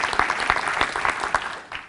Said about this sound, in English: I'd like you to clap your hands